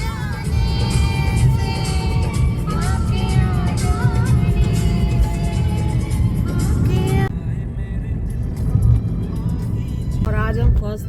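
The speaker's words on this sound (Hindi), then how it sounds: "इतना ट्रैफिक है भाई," City traffic in Gurgaon at evening rush hour heard from inside a moving car, a steady low road and engine rumble with a car horn sounding, under continuous talking.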